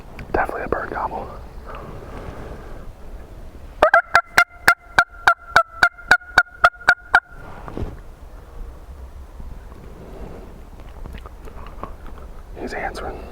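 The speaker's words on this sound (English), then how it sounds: "Oh yeah, definitely a bird gobble." A wild turkey gobbler in Wisconsin calls with a rapid, rattling gobble of about four seconds. Hushed whispering is heard around it.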